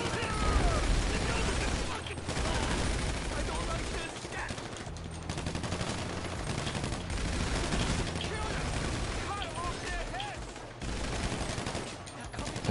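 Continuous bursts of automatic gunfire in GTA V, a dense, loud rattle of rapid shots running almost the whole time, with short pauses, under overlapping voices of players talking.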